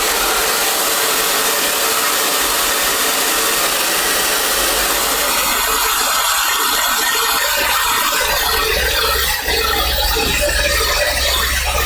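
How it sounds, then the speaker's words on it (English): Hot air tool blowing on wet paint gives a loud, continuous, steady whooshing roar that runs for the whole stretch, close up and with no voices. "I'm gonna give it a touch of hot air because I want"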